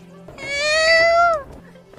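A human voice imitates a sad cat's meow, one drawn-out whining mew that rises then falls away, loud and close and heard alone.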